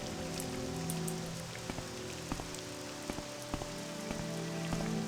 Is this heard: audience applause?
no